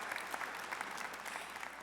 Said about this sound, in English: And clap for that.